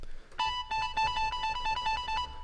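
A bright, bell-like synth preset melody for a pluggnb beat plays a quick repeating pattern of plucked tones, clear and upfront, with no voices.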